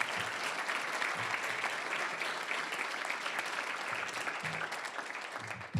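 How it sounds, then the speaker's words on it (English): At the Nations Cup 2017 awards ceremony, an audience gives a steady, dense round of applause that stays loud throughout, with a few low thuds mixed in. "please give our people here who put all this together a round of applause"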